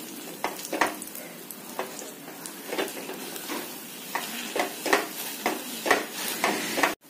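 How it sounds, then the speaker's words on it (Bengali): Ghee is worked into besan mohanthal in a hot pan, with a spoon scraping and stirring in a steady rhythm of about ten close strokes over a soft sizzle, and no voices. "উপর দিয়ে দু চামচি ঘি দিয়ে দেবো, ভালো করে মিক্স করে নেব"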